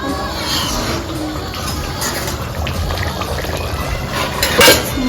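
Water added little by little to chicken saag gravy heating in a pan gives a loud, close, steady bubbling hiss with a brief sharper splash near the end.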